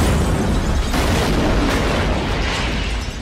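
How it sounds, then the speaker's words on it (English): Explosion from The Fast and the Furious film: a loud, sustained roaring blast with rumbling, crackling debris that fills the whole stretch and tails off slightly at the end. "Ah, that explosion is so cute now."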